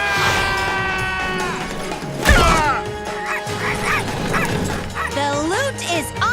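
Animated cartoon dogs barking and yipping in a chaotic heist scene, several loud, close yaps and a whimper mixed with a crash and music, alongside excited speech.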